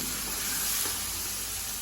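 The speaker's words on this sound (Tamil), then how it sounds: "இப்போ இந்த வெங்காயம் தக்காளி நல்லா மூடி போட்டு 15 நிமிஷம் வதங்க விட்டுருவோம்" Onions and tomatoes cooking in a covered pan for butter chicken give off a steady, even sizzling hiss, close and continuous, with no voices.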